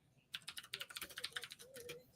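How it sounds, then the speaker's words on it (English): Rapid clicking of keys on a mechanical computer keyboard, a close, steady burst of typing that starts abruptly and continues without pause. "Because this mechanical keyboard, you can sound how shitty of a typer I am."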